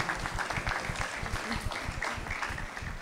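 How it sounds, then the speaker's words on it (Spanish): Modest applause from an audience, fairly faint and uneven, with low rumbling thumps and some background murmur underneath. "un aplauso para ella"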